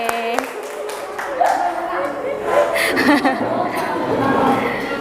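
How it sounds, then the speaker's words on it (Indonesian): A small group of teachers in a classroom workshop clap for themselves, brief claps mixed with chuckles, laughter and chatter at close range. "kita beri tepuk tangan untuk diri kita sendiri"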